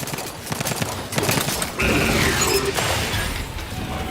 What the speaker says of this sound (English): Shoot it! Shoot the big thing!